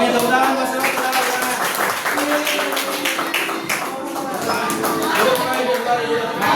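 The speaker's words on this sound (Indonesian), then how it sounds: "tepuk tangan Mas Dewa, tepuk tangan" Classroom applause for a student named Mas Dewa: dense, steady clapping from a group of pupils that holds at an even level throughout, with voices mixed in underneath.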